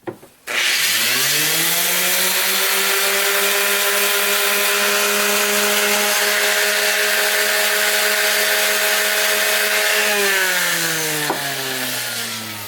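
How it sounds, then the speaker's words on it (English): A random orbital sander with 220-grit paper smooths the bottom of a turned wooden candlestick, spinning up to a steady, loud, even whine for about ten seconds before winding down. "I'm going to use my random orbital sander just to sand the bottom down to smooth it out with some 220 grit"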